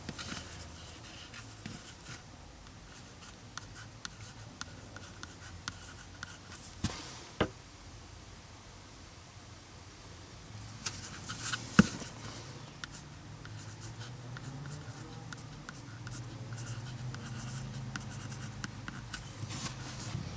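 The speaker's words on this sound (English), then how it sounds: "I'm writing it in pencil on black plastic." A pencil writing on the black plastic frame of a cabin air filter for a 2006 Chevy Uplander minivan, producing faint, close scratchy strokes with small taps and pauses, alone and quiet.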